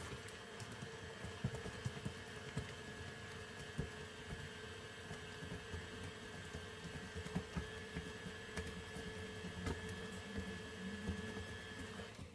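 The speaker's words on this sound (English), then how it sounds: "we'll try to give this a gentle stir in the mixer so it doesn't crush up anything" A stand mixer runs at a gentle stir through sourdough chocolate chip muffin batter, giving a steady mechanical motor hum with a faint whine. It continues evenly throughout with no voices.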